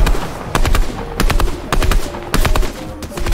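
Rapid automatic gunfire in a video game, several short loud bursts of shots separated by brief pauses, close and punchy with no talk over it.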